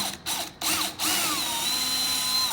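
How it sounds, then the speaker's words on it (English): A power drill whines up in short starts, then runs steadily down through wood for an Adirondack chair, its pitch rising and falling as it drills, loud and close. "I'll go ahead and line it up with the hole, drill straight down."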